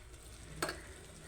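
Ivy gourd and tomato curry with chili powder sizzles softly in a pan, with a single brief scrape of stirring standing out over the faint, steady frying.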